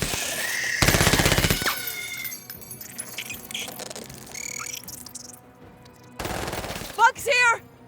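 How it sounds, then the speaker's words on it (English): Chain gun fire in the video game MENACE, a loud rapid rattling burst followed by a second burst later, mixed with game sound effects and alien squawks. "so I think we can do a couple with the chain gun."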